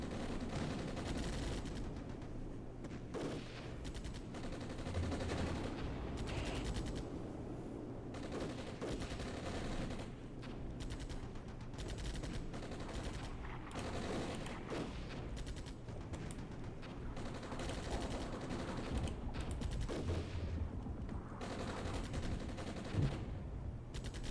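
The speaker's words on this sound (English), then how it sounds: "they're mortaring in this sector" Mortar and gunfire in the war game Armored Brigade's Grozny battle: continuous crackling rifle and machine-gun fire with scattered distant booms, dense and sustained throughout, no talk.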